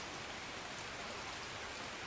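Steady rain falls in Escape from Tarkov, a broad, even hiss of drops on surfaces that holds at a constant level throughout with no voices over it.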